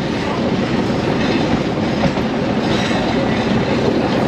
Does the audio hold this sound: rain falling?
no